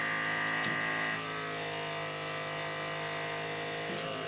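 A vacuum-assisted backing board pulls suction to hold down a wood panel for sanding, giving a steady mechanical whine and hum that drops slightly in pitch after the first second, close and with no talk.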